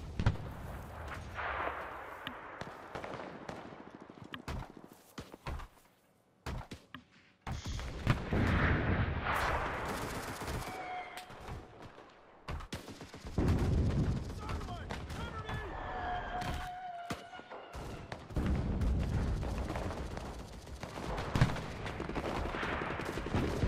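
Artillery strike called onto a capture point in the shooter game Enlisted, heavy booms and scattered gunfire rumbling across a noisy battlefield mix, with bursts of louder impacts and voices talking over parts of it.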